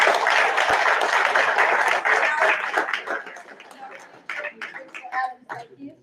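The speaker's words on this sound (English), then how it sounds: "Everybody, let's give them a round of applause." Audience applause rising into a full, dense burst of clapping that fades into scattered claps and light chatter as the room quiets down.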